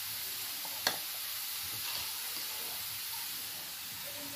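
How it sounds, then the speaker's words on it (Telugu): Carrots fry in a pan with a steady, bright sizzle and hiss throughout, broken by a single sharp scrape of stirring early on, close and continuous with no talking. "అంతా చక్కగా ఫ్రై అయింది."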